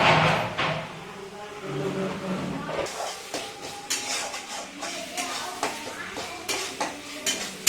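A metal lid clanks onto a cooking pot of spiced home-style desi chicken kassa in a home kitchen, among repeated clattering taps and a steady hiss, with a voice speaking faintly underneath.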